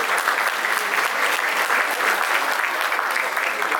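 Sustained audience applause at a mayor's New Year greetings ceremony in Saint-Claude, a dense, steady wash of many hands clapping at close range throughout, with no speech over it.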